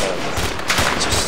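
Video game gunfire, a dense burst of loud rapid shots filling the whole short moment, close and harsh with no pause.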